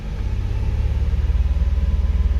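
An Infiniti car engine runs at around 2400 rpm, a close, steady low rumble with a regular pulsing throb that grows slightly stronger and more rhythmic toward the end.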